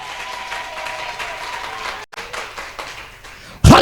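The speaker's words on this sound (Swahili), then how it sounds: "Mpe Yesu makofi mazuri." A church congregation applauds together: a steady, fairly loud wash of clapping holds for about three and a half seconds, with a brief dip midway and a sharp, louder burst right at the end.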